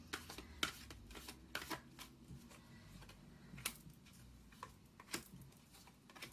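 Tarot cards are shuffled by hand in quick, crisp riffling bursts with short pauses between them, close and quiet, with no talking.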